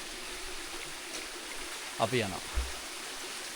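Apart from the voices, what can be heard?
flowing stream water in Knuckles forest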